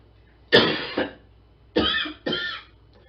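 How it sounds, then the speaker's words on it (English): A coughing fit close by: one harsh cough burst with a short follow-up hack, then two more strong coughs in quick succession, with no talking. "Frankie starts having a coughing fit"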